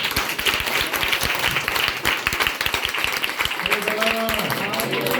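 An audience at a church testimony service claps in a dense, continuous burst of applause, fairly close, with a voice briefly speaking over it near the end.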